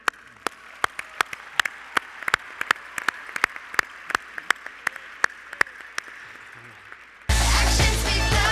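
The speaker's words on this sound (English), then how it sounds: "FFA members and guests, please join me in a huge round of applause for Jesse Shepard, Mr. Tony Orlando" Audience applause at a national FFA convention opening session: sharp regular claps over a steady crowd wash for about seven seconds, then swelling into a loud, dense roar of clapping.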